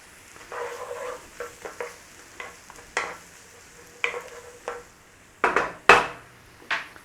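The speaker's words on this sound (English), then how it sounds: "start to give it a little bit of a sauteing in that butter mixture" Chicken liver sautéing in a generous butter mixture in a pan, a soft steady sizzle broken by repeated scraping stirs and clacks of a utensil, some sharper and louder near the end.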